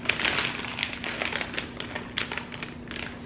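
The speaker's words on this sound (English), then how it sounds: "I'm going to seal up this bag." A plastic food bag being sealed by hand while marinade ingredients are prepared, giving soft crinkles and quick clicky presses of the zip closure, close and faint.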